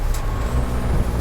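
A diesel TDI-swapped VW mail truck driving with a homebrew clutch, its engine rumbling low and steady and close up as the driver downshifts, with a brief hiss of air near the start and end.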